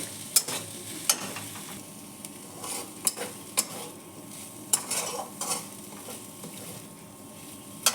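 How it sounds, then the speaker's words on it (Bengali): Fried eggplant is stirred into cooked pea greens with lentil dumplings in a pan. A utensil clinks sharply against the pan every second or so over a soft background of scraping and sizzle. "শাক আর বড়ি সেদ্ধ হয়ে গেছে, এখন ভেজে রাখা বেগুনটা দিয়ে দেব।"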